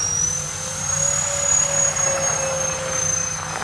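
A Freewing A-10 Warthog RC jet with twin 64mm EDF units roars steadily during its maiden-flight takeoff, a loud continuous ducted-fan whine with high tonal whistles, swelling slightly as it runs.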